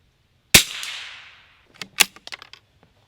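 A single sharp crack from a vintage Winchester 67a .22LR single-shot rifle fired at a 50-yard range, with a short ringing decay, followed by quieter clicks and knocks of handling the action.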